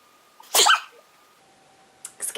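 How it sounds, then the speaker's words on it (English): Two sharp, explosive bursts, a sneeze followed by a second shorter one, close by against a quiet room with a faint steady hum. "About to sneeze."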